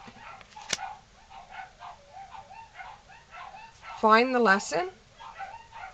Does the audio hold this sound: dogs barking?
yes